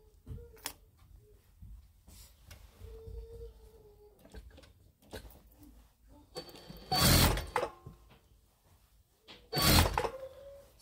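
Sewing machine stitching a seam on a dirndl, sounding as two loud, dense bursts of running stitches at moderate distance, separated by quieter handling noises.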